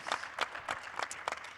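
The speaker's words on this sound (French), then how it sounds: "Je vous invite à les applaudir" Audience applause in a hall during a panel debate on women's entrepreneurship in Africa and the diaspora, a short burst of scattered hand clapping, moderately loud with uneven bursts.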